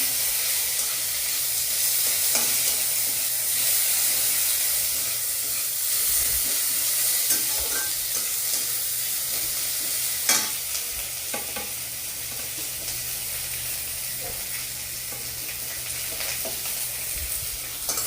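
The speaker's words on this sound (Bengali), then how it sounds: "আর এইদিকে সাইডে আমি আলু ফ্রাই করছি।" Potatoes fry in a pan at home, giving a continuous close sizzling hiss with occasional scraping stir clicks, loud and steady throughout.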